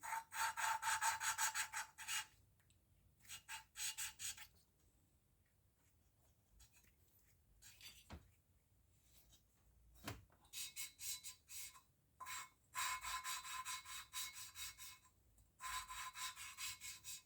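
An engine valve is lapped back and forth on its seat in a single-cylinder engine head, a faint rhythmic scratchy grinding in short repeated strokes with quiet pauses between bursts.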